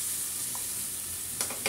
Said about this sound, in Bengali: একটু পানি দিয়ে আবার ভুনে নেব।